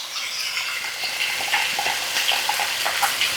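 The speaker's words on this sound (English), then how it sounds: "Now I'm going to add my onions in." Onions drop into a hot frying pan of beef for stroganoff, a bright steady sizzle with crackling pops and light stirring clicks, close and fairly loud.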